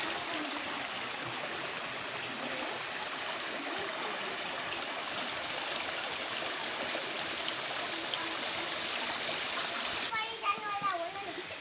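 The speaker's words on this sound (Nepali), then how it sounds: "ल हामी झरनाको नजिक करिब आइपुगेको छौँ" Water rushes at Satashidham waterfall in Nepal, a constant broad roar with splashing, while people, including a child, talk over it near the end.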